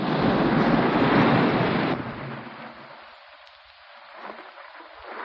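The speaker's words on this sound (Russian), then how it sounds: "Шторм на море" Storm waves and wind at sea in a 1963 Soviet film, a loud broadband rush of surf and gale for two seconds that then drops to a quieter, distant howl.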